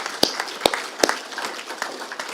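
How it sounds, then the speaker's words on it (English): A round of applause at a river symposium comes from a roomful of people, with a few loud, close claps standing out against a thinner scatter of clapping around them over about two seconds. "give him a bit of a round of applause"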